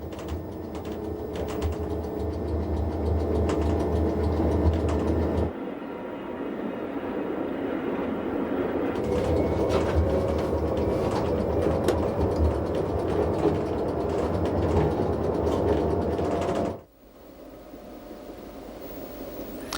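Bernina Express train on the Swiss railway running through the 175-metre Arlas avalanche gallery: a steady, loud rumble of wheels and carriage noise that shifts in tone midway and drops away sharply near the end, with no talk.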